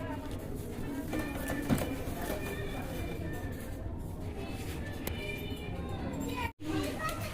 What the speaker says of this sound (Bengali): এখানে কিন্তু আরও এক জোড়া কবুতর দেখতে পাচ্ছেন